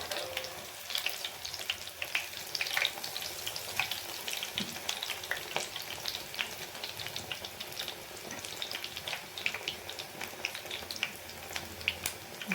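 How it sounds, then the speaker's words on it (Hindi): Baigni, eggplant fritters, fry in oil over medium heat, giving a constant crackling sizzle full of tiny pops, held steady and fairly soft throughout with no voices. "थोड़ी दरमियाने आग में ही इसे फ्राई करेंगे"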